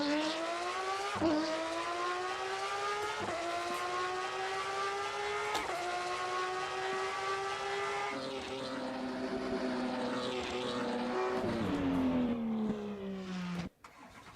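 A Lamborghini Revuelto in a racing video game holds a loud, high-pitched engine scream at top speed, the note climbing steadily between quick gear shifts, then dropping and cutting out abruptly near the end.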